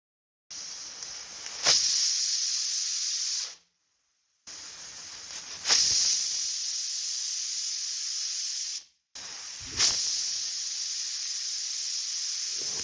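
A pressure cooker on a gas stove, boiling chickpeas for chole, lets out three loud, steady whistling hisses of about three to four seconds each, separated by short silent gaps.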